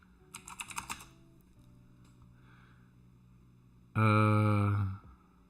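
Quick bursts of computer keyboard typing, a rapid cluster of keystrokes followed by a lull, then a loud sustained tonal burst cuts in over a steady low hum.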